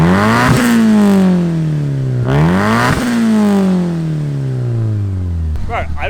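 Turbocharged Mitsubishi Lancer engine, tuned on the street, revs hard twice, climbing sharply and falling back, loud and close, with a brief burst of clatter at the end.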